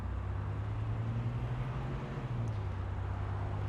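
A 1983 Ford Mustang convertible accelerates through the gears, a steady low engine drone with a faint rising tone, heard from inside the moving car.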